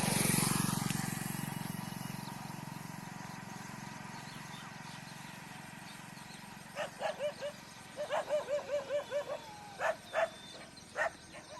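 Several street dogs barking in quick bursts from a distance during a fight after a long stretch of low rumbling background, the barks clustered and excited.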